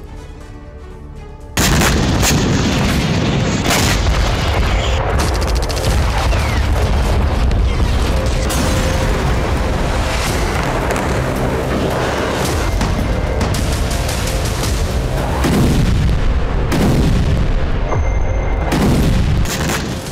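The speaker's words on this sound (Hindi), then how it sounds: "ये बगदाद के यूएस विक्ट्री बेस पर मिसाइल हमले की तस्वीरें हैं। जिससे अमेरिका के सी रैम एयर डिफेंस सिस्टम ने नाकाम कर दिया।" Missile attack on US Victory Base in Baghdad met by C-RAM air-defense fire, a loud, continuous roar of rapid gunfire and booms that starts abruptly and holds for about twenty seconds.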